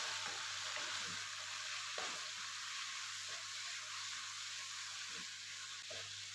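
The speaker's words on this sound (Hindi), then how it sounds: "तो ये मैं इसमें डाल दूँगी और इसकी भुनाई कर दूँगी।" Spices for keema karahi roasting in hot oil, a steady broad sizzle running throughout with a few soft knocks of the spoon against the pot, close and even, no voices.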